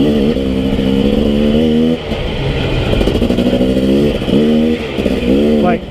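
A Husky TE250i dirt bike ridden through the desert in January, its engine buzzing loudly and revving up and down repeatedly, close to the rider with wind noise throughout.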